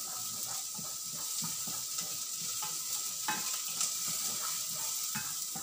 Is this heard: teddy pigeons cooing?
no